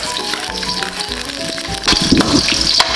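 Garlic frying in a pan, a steady close crackling sizzle with a few louder pops near the end, bright and busy throughout.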